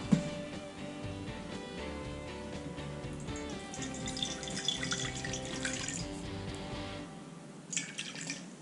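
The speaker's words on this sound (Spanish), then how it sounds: "Ponemos agua." Water pours in a steady stream, with splashing and dripping as it fills a container for a meat marinade, heard up close with no talking.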